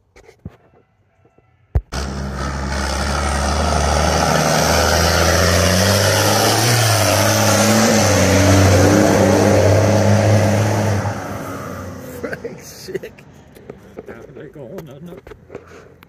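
A tractor engine fitted with a bigger Holset turbo, new injector nozzles and 13mm pump elements roars up hard and holds a loud, rising drone for about nine seconds, then falls away, with voices around it.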